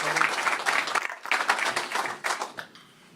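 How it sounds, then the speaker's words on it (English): Audience clapping at a Guns N' Hoses press conference, a short burst of applause that thins out toward the end as the hands stop. "let's have a big round of applause for Jack Martirelli."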